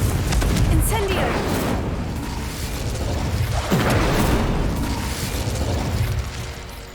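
Confringo explosion spell cast in Hogwarts Legacy, a steady run of fiery bursts and booming blasts rumbling loud and close for several seconds amid dense game combat noise, with voiced shouts mixed in.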